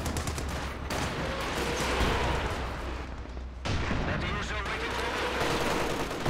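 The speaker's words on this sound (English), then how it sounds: "Another base barrage, a few units back there" A base artillery barrage in Company of Heroes 2 pounds away as dense, overlapping booms and rumbling impacts, loud and continuous with brief lulls, while a commentator talks over it.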